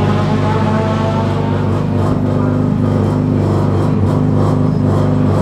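A car engine drones loud and steady from inside the cabin during a lap at the Tsukuba race track, a sustained mid-pitched roar with slight rises in revs and no voices.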